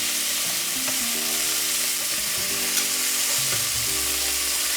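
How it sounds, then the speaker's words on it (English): Poulet Yassa chicken pieces grilling in a pan, a steady, dense sizzle and crackle of frying that continues without a break throughout. "You're just gonna grill them for about 5 minutes, I would say, 4 to 5 minutes on each side"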